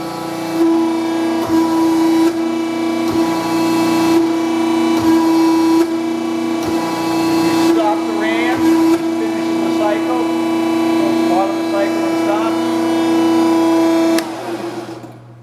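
A Morrison 3-inch capacity hydraulic keyseater with a 14-inch stroke runs its ram in a machine shop, giving a steady, loud, close mechanical hum with strong tonal whine, brief clicks and shifts, then cutting off near the end.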